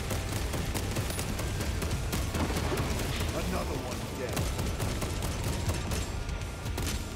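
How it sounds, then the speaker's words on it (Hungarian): Dense gunfire and explosions from the video game Warhammer 40k: Space Marine 2 crackle and boom continuously, loud and chaotic with rapid bursts and heavy low rumbles, and a voice talks over the battle. "Az egy szép robbanás volt."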